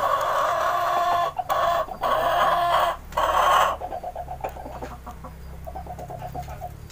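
Chickens clucking and squawking in a coop, a loud dense cluster of calls in the first half, then quieter scattered clucks continuing close by.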